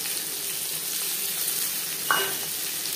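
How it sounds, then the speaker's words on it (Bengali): Chopped onion sizzles in oil with five-spice (panch phoron), a continuous even hiss with one brief clink near the end. "5 ফোড়ন ভেজে নেওয়ার পর দিয়ে দেবো পেঁয়াজ কুচি।"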